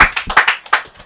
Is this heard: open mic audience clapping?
yes